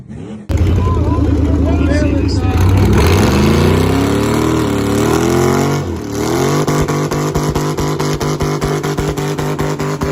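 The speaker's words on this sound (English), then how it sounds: "Broken Boosted is ready to go and show off some burnouts" Twin turbo LS car, a 55 built on a budget, revs hard through a burnout, its engine note climbing and wavering near and loud, then settling into a lumpy, pulsing drone that runs to the end.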